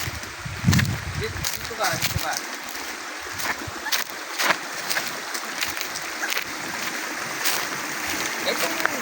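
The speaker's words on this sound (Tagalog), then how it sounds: "Running water siya. Bahala siyang umagos." Running water flows in a small outdoor stream beside a pool being built, a steady splashing rush with a few brief louder splashes, while someone speaks briefly over it.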